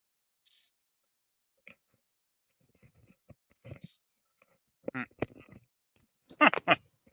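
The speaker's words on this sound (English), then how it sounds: "Sorry about the dogs making noise. I just fed them." Dogs nearby, just fed, make scattered sniffs, snorts and short whiny vocal noises, growing louder toward the end, with quiet gaps between bursts.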